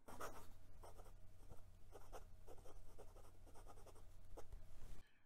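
A Wing Sung 601A fountain pen scratches across paper with noticeable drag, its nib making soft, repeated strokes in short rhythmic bursts, quiet and close against a low background hum.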